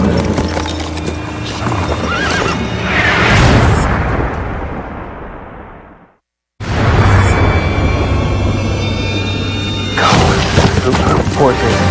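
A horse neighs and hooves clip-clop amid loud outdoor rumbling during a wilderness chase, with a brief dropout partway through and a voice audible in the mix.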